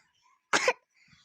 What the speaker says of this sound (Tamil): என்னாச்சு இந்த பிசாசுக்கு இப்படி இருமிட்டு இருக்கா?